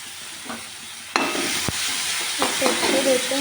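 Finely chopped onions sizzle and hiss in a hot pan for a Kerala-style red fish curry, with a few sharp clinks of a stirring spoon against the pan over steady close frying noise.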